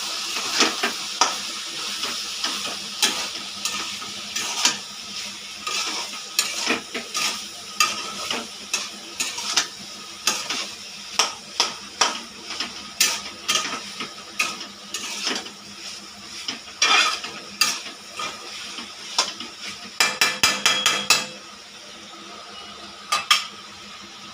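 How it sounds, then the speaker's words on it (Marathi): A spoon stirs soybean and potato curry with salt in a pan, scraping and clattering in quick irregular strokes over a steady low sizzle, close and fairly loud with no talk. "आपण ते एकजीव करून घेऊया"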